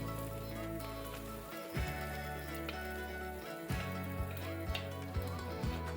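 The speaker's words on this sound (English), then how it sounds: "fry the onions until they turn translucent." Chopped onions frying with urad dal and curry leaves in sesame oil, a faint soft sizzle and crackle beneath a steady low hum, with a few light clicks and knocks.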